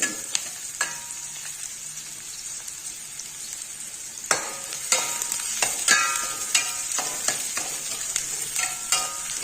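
Tomato and onion sautéing in a pan for cabbage rice: a steady frying hiss with soft scraping, then sharper, repeated spoon strokes and clinks against the pan in the second half.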